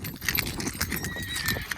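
Horse hooves clip-clop in a quick, uneven rhythm on hard ground during dance training, close and fairly loud, with a few faint higher tones over the steps and no speech.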